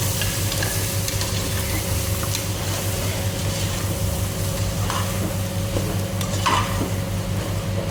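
Goat offal curry sizzling in a pot while being stirred, a loud, constant close frying hiss with occasional spoon scrapes and clinks against the pot, a low steady hum underneath.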